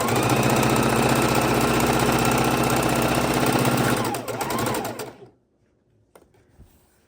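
A sewing machine runs steadily and loudly, stitching chunks of fabric scraps together for a quilt, then slows and stops near the end, leaving quiet room tone.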